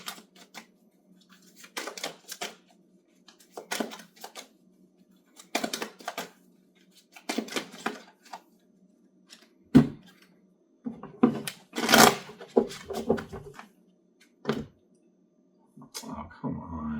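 Tarot cards shuffled by hand in bursts of soft papery riffling and tapping, separated by short pauses, close and fairly quiet with no talking.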